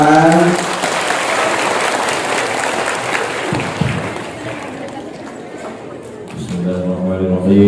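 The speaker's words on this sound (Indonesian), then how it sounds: "Tepuk tangan dulu jamaah" A congregation at a large Islamic religious gathering in Baubau, Sulawesi, gives loud, dense applause that swells and then thins out, with a voice over a loudspeaker talking briefly at the start and again at the end.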